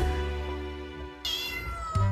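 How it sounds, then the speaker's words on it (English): A kitten gives a couple of high, clear meows in quick succession, close by, after a quiet stretch with a low background hum. "And she meowed back at him."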